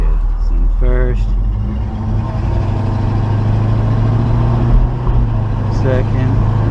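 A 1972 Chevy Nova pulls away in first gear on a test drive, its engine a steady loud low drone throughout, with someone talking over it now and then.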